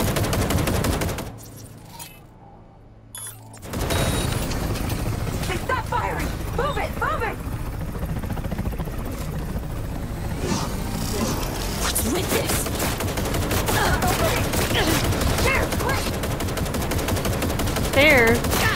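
Rapid machine gun fire in the video game Cyberpunk 2077, dense sustained bursts up close that drop out briefly for a couple of seconds before resuming, mixed with game sound effects and voices.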